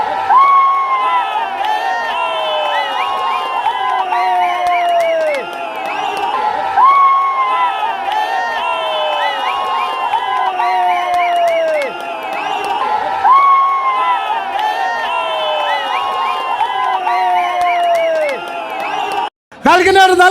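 A crowd cheers and shouts at a log-carrying contest, with rising whoops and excited voices layered over a steady din that keeps going with little letup and breaks off abruptly at the very end.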